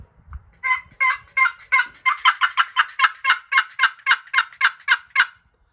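A rapid series of about sixteen loud, evenly spaced turkey cackle notes from a box call, quickening slightly, with no voices.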